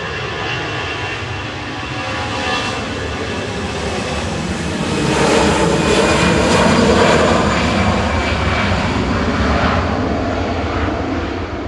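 EasyJet airliner at Manchester Airport on a flight to Basel, its jet engines giving a loud, steady roar that swells in the middle and stays broad and rumbling throughout, with no talk.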